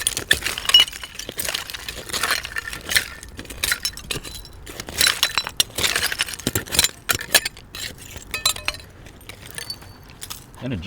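A glass jelly jar, dug up among old buried artifacts, clinks and knocks as it is handled, with sharp irregular glassy taps scattered over roughly eleven seconds, close and fairly loud.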